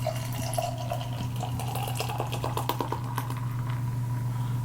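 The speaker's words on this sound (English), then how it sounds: "I did a slight hard pour" Beer, a New England IPA, is poured hard into a glass, a steady close splashing and fizzing stream over a constant low hum, with no talk.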